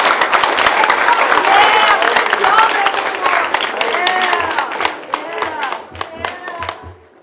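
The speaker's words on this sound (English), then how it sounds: "Everybody, give them a round of" Students and adults in a school audience at a spelling bee applaud at the end of a round: loud, sustained clapping from many hands that thins toward the end, with a few scattered claps lingering.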